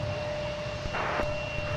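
A CRJ 900 regional jet at Minneapolis–St. Paul airport, heard as a steady distant engine whine and rumble with a constant high tone, plus a brief burst of broadband noise in the middle; no speech.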